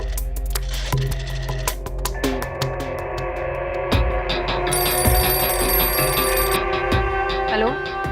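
A telephone rings repeatedly with a bright electronic trill, joined by a high alarm-like tone midway, over background noise and faint clicks.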